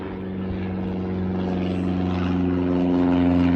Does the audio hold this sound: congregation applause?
no